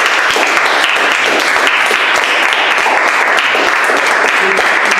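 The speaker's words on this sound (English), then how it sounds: "Can we all please give him a round of applause?" An audience applauds a speaker with loud, sustained, dense clapping that stays even from start to finish, with some voices under it.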